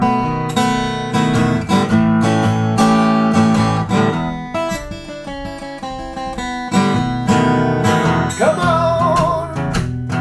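Blues guitar plays a beginner-level blues arrangement, with strummed chords and shuffling rhythmic patterns ringing loud and continuous throughout.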